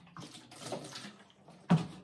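Small amount of water poured into a bucket of ceramic glaze for mixing, a short soft splash and trickle followed by one louder slosh near the end, close by and alone.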